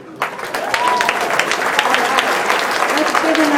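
School audience applauding at an elective night, a steady wash of clapping from a sizable crowd that sustains evenly from start to end, loud and close.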